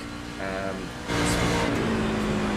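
A NASCAR pickup truck's engine drones loudly from the cockpit camera in the iRacing simulator on the Daytona road course, holding a steady mechanical hum that jumps to a harsher, louder roar partway through.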